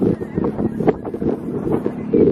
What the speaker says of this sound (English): It's like insanely windy.